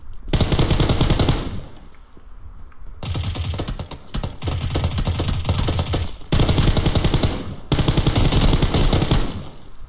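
Rapid automatic fire in PUBG Mobile with loud, dense bursts of machine gun shots rattling almost nonstop for several seconds, pausing only briefly between volleys, close and dominant with no talk over it.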